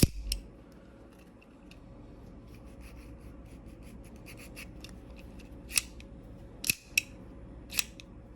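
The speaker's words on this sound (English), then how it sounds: "a recent gift with some cigars I got is a Rocket Patel V cutter. It's like the Calibri one. It's a deep V cut, spring loaded." A spring-loaded Rocky Patel deep V cigar cutter snaps shut three times late in the clip, each a sharp, close click after quiet handling and rubbing.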